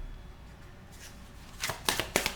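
Tarot cards being shuffled by hand, with several sharp riffling bursts close by after a quiet start, and no talking.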